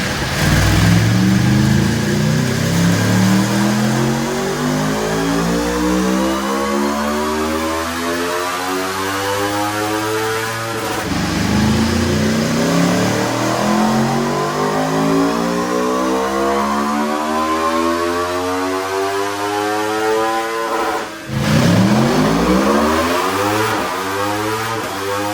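A 2026 Aprilia RSV4 Factory 1100 motorcycle, nearly new, screams up through its revs on a dyno in three long loud pulls, each climbing steeply to a high-pitched wail before dropping back, with no talk over it.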